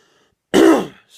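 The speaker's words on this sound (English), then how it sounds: "had to go off camera and cough there" A single sharp throat-clearing cough, loud and close, lasting under half a second in an otherwise quiet room.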